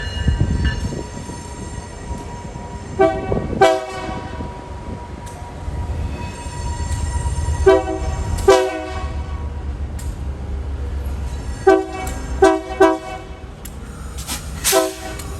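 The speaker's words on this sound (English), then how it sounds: "Today's train is led by a Progress Rail PR20B 300, a specifically designed clean emissions locomotive" A New York and Atlantic Railway Progress Rail PR20B diesel locomotive rumbles steadily nearby, switching freight cars at a recycling yard, its horn sounding in several short and long blasts, with wheels and cars clanking along.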